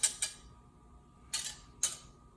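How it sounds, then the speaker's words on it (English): Salt and pepper grinder twisted over beaten eggs in a home kitchen: four short, dry crackling bursts, two close together, then a pause, then two more, each quick and crisp against a quiet background. "we're gonna give it a grind or two of salt and a grind or two of pepper"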